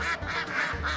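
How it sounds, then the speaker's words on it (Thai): Live ducks brought onto a stage quack in a loud, rapid run of nasal calls, close and overlapping, with a murmur of background noise. "เดี๋ยวเราจะมีน้องเป็ดขึ้นมาบนเวทีครับ"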